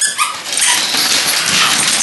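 Pug dogs scuffle at home, giving close, loud growling and snarling yips in a continuous rough burst.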